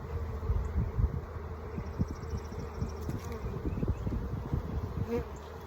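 Honeybees fill an open hive during a spring split inspection with a continuous close buzz, marked by scattered louder bumps and rustles as frames are handled.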